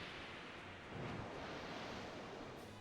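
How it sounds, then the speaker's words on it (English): Kingdra's Waterfall attack in a Pokemon video game surges as a steady, rushing wash of water noise that swells briefly partway through, broad and hissing, with no voices over it. "Here comes a Waterfall from Kingdra."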